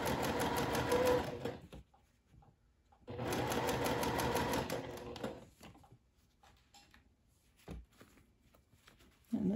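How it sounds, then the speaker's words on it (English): A sewing machine runs along sundress fabric with a ruffle, sounding in two close, steady bursts of rapid stitching separated by a pause and followed by softer handling clicks. "Really should be pulling the pins before I sew over them."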